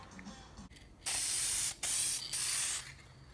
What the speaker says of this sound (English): one step I like to do when I do see that is shoot it with some adhesion promoter